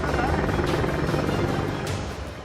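Military helicopter flying at night over a forward air force base, a steady loud rotor and engine roar that fills the clip and eases slightly toward the end.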